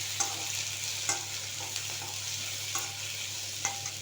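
Onions sautéing with fennel seeds and curry leaves for paneer kurma, a soft steady sizzle broken by regular scraping strokes of a spatula against the pan, no speech.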